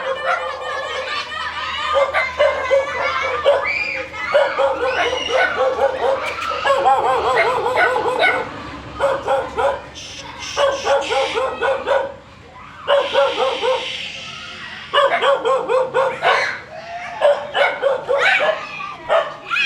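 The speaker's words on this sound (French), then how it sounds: "Ici, c'est des chiens plus de garde, hein. Ils protègent la maison, ils avertissent quand les gens arrivent" Guard dogs at a house in Vietnam bark repeatedly at arriving visitors, a loud, busy run of barks and yips from several dogs close by, with brief pauses and some laughter and talk mixed in.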